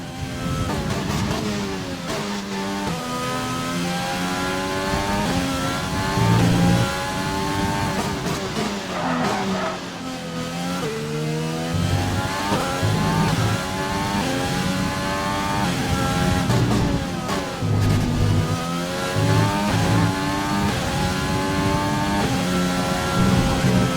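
A Formula 1 car laps the Spanish circuit in the F1 2020 game, its engine screaming loud and continuous through upshifts and downshifts, with occasional tyre squeal in the corners and no voice over it.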